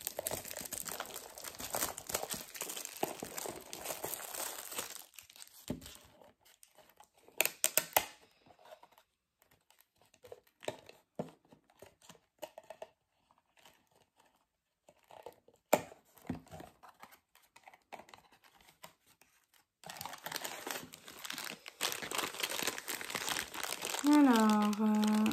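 A mystery minis blind bag is torn open and handled, giving loud, close crinkling of plastic wrapping at the start and again near the end, with quieter rustling between and a voice coming in at the close.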